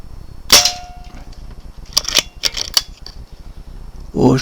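Rifle shots fired through a scope at targets, with several sharp cracks scattered irregularly over a few seconds, some single and some in quick pairs, followed by a brief mechanical rattle.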